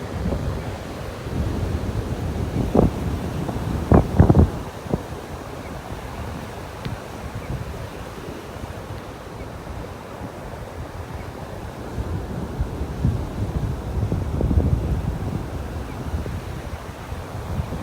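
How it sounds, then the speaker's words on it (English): Wind gusts buffet the microphone on a chilly beach in North Naples, Florida, rumbling bursts over steady surf, with a few sharp thumps early on. "some pretty good little gusts blowing through here."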